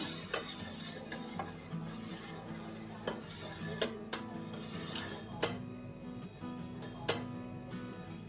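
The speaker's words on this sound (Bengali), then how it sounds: "এর মধ্যে আমি অল্প অল্প করে ভিনিগার মেশাবো আর ভালো করে মিশিয়ে দেব" A spoon stirs vinegar into slightly cooled milk in a pot to make chhena, producing quiet swishing with sharp, intermittent clinks against the metal every second or so.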